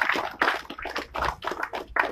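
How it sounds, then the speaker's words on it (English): A small audience claps a round of applause for a speaker at a blockchain center livestream, uneven bursts of hand claps, fairly close and without talk. "Give him a round of applause."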